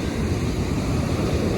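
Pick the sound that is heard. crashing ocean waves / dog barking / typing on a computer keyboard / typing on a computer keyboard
crashing ocean waves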